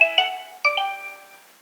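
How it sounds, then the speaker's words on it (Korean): A phone call rings out as a son tries to reach his father, two bright electronic ringtone chimes in succession, each decaying slowly, clear and close with no voices. "아들은 애타는 마음으로 전화를 걸어봅니다"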